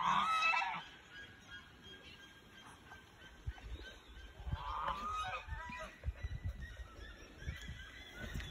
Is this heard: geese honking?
yes